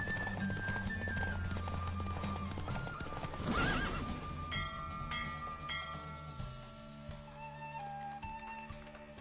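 Horse hooves clip-clop at a gallop with repeated neighs and whinnies during a race in The Witcher video game, with a game music score and a burst of crowd noise around the middle.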